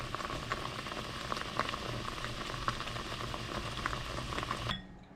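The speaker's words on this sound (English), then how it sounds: "Here I'm sauteing my seasoning." Seasoning sautés in a pan for homemade barbecue sauce, giving a steady close sizzling and bubbling hiss with scattered crackles and light stirring, cutting off near the end.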